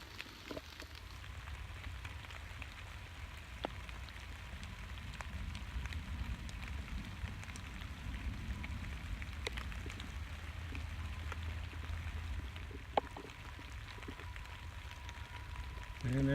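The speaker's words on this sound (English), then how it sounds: "I'll probably throw a little footage of the rain and the water" Steady rain falls outdoors in nasty weather, a continuous low wash of patter with occasional sharper drips, faint and distant throughout.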